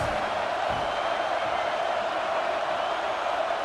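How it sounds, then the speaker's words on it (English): Steady stadium crowd roar in an EA Sports college football game, a continuous loud wash of noise with no distinct cheers or breaks. "This crowd trying to make life miserable for this offense"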